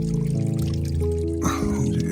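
Water trickles and pours from a natural water source in the jungle of the Margalla Hills near Islamabad, a close, steady liquid splashing over a tonal hum, lasting about two seconds with no speech.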